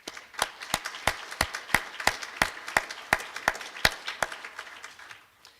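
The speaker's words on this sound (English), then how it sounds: "Graduates, I think it would be time to honor them with your applause as well." Scattered applause from a small audience at a physical therapy hooding and pinning ceremony, heard as distinct, evenly spaced claps close by that thin out and fade toward the end.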